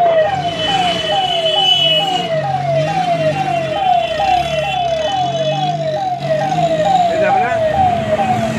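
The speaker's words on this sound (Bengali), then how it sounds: "একদম অ্যাম্বুলেন্সে হুটার বাজাতে বাজাতে সোজা" An ambulance hooter wails nearby in a fast repeating rising-and-falling siren cycle, loud and continuous, with traffic noise underneath.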